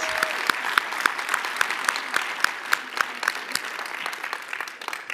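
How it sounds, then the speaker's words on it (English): An audience at a talent conference claps steadily, a dense round of applause with sharp individual hand claps close to the microphone, gradually thinning toward the end. "join me in giving Craig and Jenny a big round of applause"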